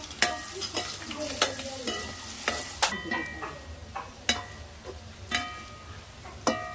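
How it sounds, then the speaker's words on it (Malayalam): Chopped capsicum being sautéed in a pan for fried rice gives a steady sizzle, with sharp, close scrapes and clinks of a spatula stirring at irregular intervals. "ഇനി ഈ ക്യാപ്സിക്കം വഴറ്റിയെടുക്കാം."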